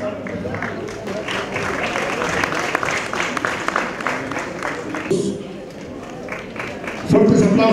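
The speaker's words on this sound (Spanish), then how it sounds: "Fuertes aplausos, por favor, para ellos." Crowd applause during a Guerrero governor's tour event in Tierra Caliente, sustained clapping close by with people talking and calling out over it, a brief lull, then louder clatter near the end.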